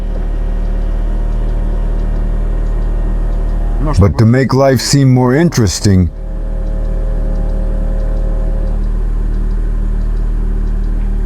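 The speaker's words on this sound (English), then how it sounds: "Let's go ahead and initiate the startup process. The sound is noble and impressive." Marussia B2 Russian supercar engine idling with a low steady rumble through the whole stretch, while someone talks over it in the middle.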